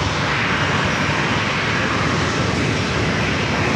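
A WestJet Boeing 737-700 takes off at San Diego airport with a loud, constant roar of jet engines, a dense broadband rush that holds steady throughout with no voices.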